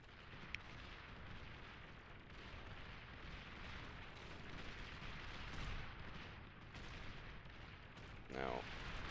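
Units in the real-time strategy game Beyond All Reason blow up in a chain reaction, a dense rolling barrage of booming explosions and gunfire that fills the whole stretch at steady loudness, with a brief rising whine near the end.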